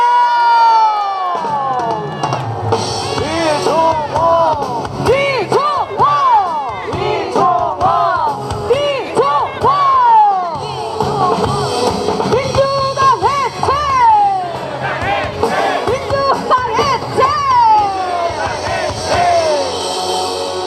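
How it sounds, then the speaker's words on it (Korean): A large crowd at an outdoor political rally and prayer meeting in Daejeon, South Korea cheers and shouts continuously, voices rising in waves with scattered yells over a steady roar; clapping is not distinct. "박수로 맞아주세요"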